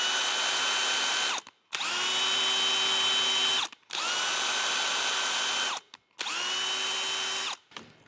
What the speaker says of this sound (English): I'm just reversing the drill there